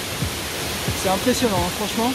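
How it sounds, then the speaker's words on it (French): A loud waterfall at Trois Bassins on Réunion, in full rainy-season flow, rushes as a constant broadband roar while someone talks over it. "il y a beaucoup de bruit avec la cascade"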